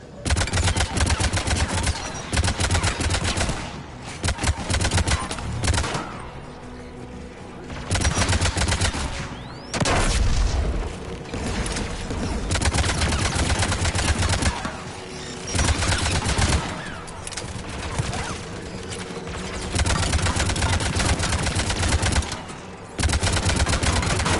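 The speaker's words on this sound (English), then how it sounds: "AA guns ahead." Anti-aircraft guns fire in the Mass Effect video game, dense loud bursts of rapid gunfire running almost continuously with brief lulls between volleys.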